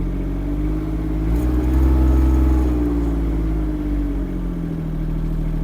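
A diesel engine on a Chinese mini excavator idles steadily nearby, with a low rumbling drone that rises briefly in revs around the middle before settling back, with no voices.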